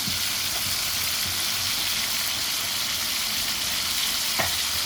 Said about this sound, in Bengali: আমি এখন 5 মিনিট এগুলো এখন সুন্দর করে ভাজে নেব।